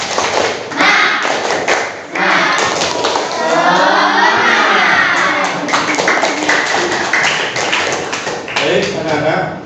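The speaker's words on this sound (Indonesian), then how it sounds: "Baik, kita beri tepuk semangat." A class of children gives a rhythmic spirit clap (tepuk semangat) during a morning Islamic lesson, with sharp clap bursts at the start and end and the group chanting a sing-song cheer between, close and loud.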